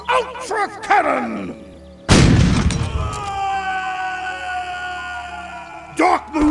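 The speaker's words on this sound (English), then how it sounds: "you absolutely have to try our dazzling, stupefying, splendiferous Blastenheimer 5000 Ultra Cannon!" A Blastenheimer 5000 Ultra Cannon fires at the Darkmoon Faire in World of Warcraft, a sudden loud boom that rolls into a long ringing, roaring tail, with brief whooshing game effects before and after.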